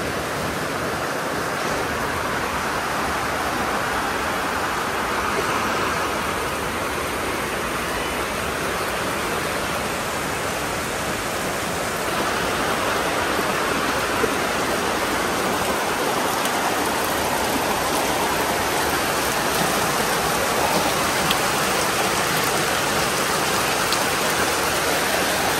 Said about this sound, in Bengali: বৃষ্টি মানে বৃষ্টি, পানি জমে গেছে দেখছেন।